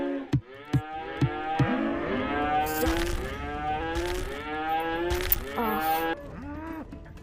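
Cow mooing in a VR farm game: several long, loud, drawn-out moos follow one another with short gaps, heard close and clear with no talking.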